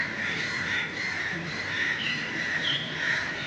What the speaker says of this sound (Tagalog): So maingay yung mga ibon dito